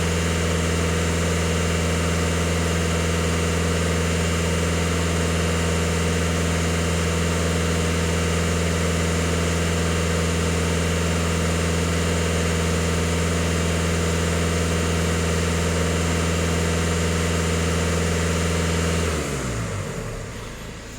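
A VW Jetta 2.0 TDI EA288 diesel engine idles with a steady, loud low rumble and constant hum for a long stretch, then the sound winds down near the end.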